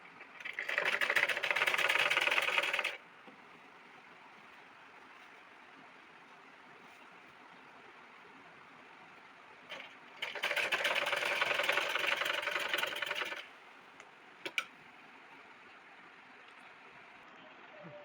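A sewing machine stitches abaya fabric in two bursts of steady whirring, the first about three seconds and the second a little longer, separated by quiet pauses with small clicks.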